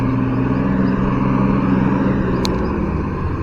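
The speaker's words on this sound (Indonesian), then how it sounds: "Ya, kita lihat banyak sekali truk yang lalu lalang." Heavy trucks roll steadily past a toll road construction site, a loud, continuous engine rumble close by with no break over several seconds.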